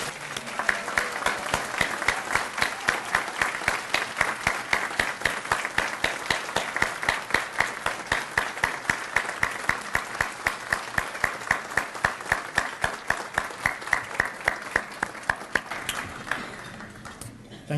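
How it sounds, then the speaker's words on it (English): Sustained applause from a seated crowd at a Buena Park Police Department appreciation brunch, dense steady clapping lasting over fifteen seconds before thinning out and stopping near the end. "please join me in applause for appreciation for what they do"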